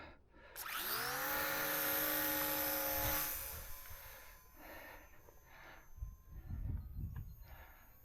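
A Volantex Corsair F4U RC model plane's electric motor spins up into a loud, steady high-pitched whine as it takes off, then fades as the plane moves away, leaving faint outdoor noise.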